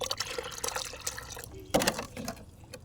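Plant nutrient solution being poured into water for dilution gives soft liquid splashing and trickling with a few drips, one sharper splash midway, quiet and close.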